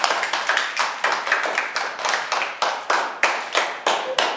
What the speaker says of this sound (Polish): A dzieci bijemy brawo dziewczynom, tak?